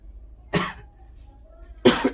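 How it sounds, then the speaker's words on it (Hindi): A teacher gives two sharp coughs about a second and a half apart, close and clear, with near silence between them. "थोड़ा सा खांसी हो गया बच्चों।"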